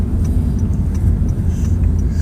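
A car rolls down into the basement parking of Masjid Raya Baiturrahman in Banda Aceh, with a steady, close low engine rumble and road noise throughout.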